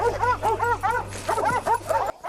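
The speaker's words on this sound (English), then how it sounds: "Would you please shut these goddamn dogs up?" Dogs in a scene from the film Django Unchained bark and yelp in a rapid, rhythmic string of close, loud barks over a steady low hum, cutting off abruptly at the end.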